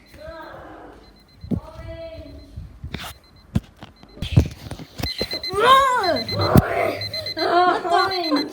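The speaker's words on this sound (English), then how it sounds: "No, it's your alarm clock." An alarm clock rings with a bright electronic beeping tone that grows busier and louder partway through, mixed with cartoonish voices talking and clattering sounds.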